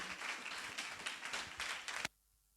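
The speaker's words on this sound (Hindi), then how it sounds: "एक बार फिर से ताली बजाओ यीशु मसीह के लिए" A church congregation at a Friday youth gathering claps for Jesus Christ, a quiet but busy run of many hands clapping that stops abruptly near the end, leaving near silence.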